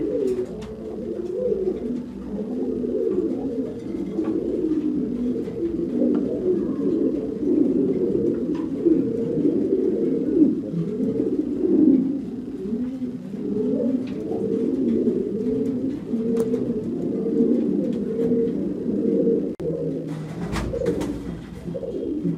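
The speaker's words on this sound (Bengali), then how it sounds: "স্পেশাল কবুতরের খামার পরিদর্শন করতে" Pigeons coo steadily and densely at a farm of fancy black Mundian pigeons, a continuous overlapping murmur of low throaty calls close by, with a brief rustle near the end.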